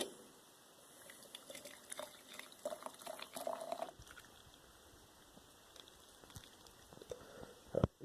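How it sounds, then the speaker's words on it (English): Water poured into a cup over a tea infuser for homemade backyard tea, a faint trickling and dripping with a few brief louder splashes, heard alone in a quiet room. "And just pour the water right in."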